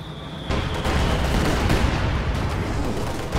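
Heavy mortar fire in the video game Company of Heroes 2, a dense battlefield din of booming impacts and gunfire that swells after a brief quieter start and stays loud.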